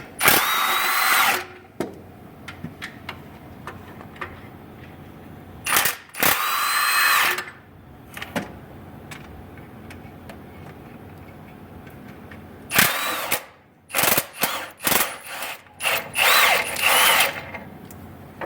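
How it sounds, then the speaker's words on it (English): A Milwaukee 1/2-inch drive brushless impact wrench backs out bell housing bolts on a 7.3 Powerstroke. Several loud, close whirring bursts of hammering are separated by quiet pauses and small clanks. "here I'm going to use the 1/2-inch drive Milwaukee brushless impact. And as you can see, it'll take these bolts out"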